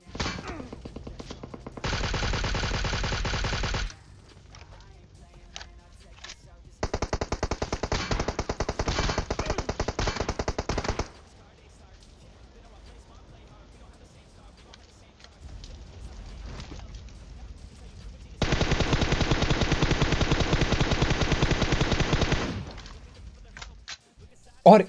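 Gunfire in a video game: three long bursts of rapid automatic fire, loud and close, separated by quieter stretches of lighter shots and background noise.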